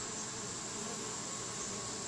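Bees swarm around a beehive on an evening in western Tennessee in late August. A dense, steady buzz fills the space with no break and no voices.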